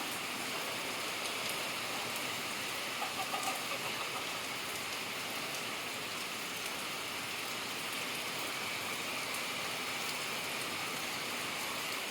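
Steady, dense rain pouring down, a constant broadband hiss with no pauses and no voices.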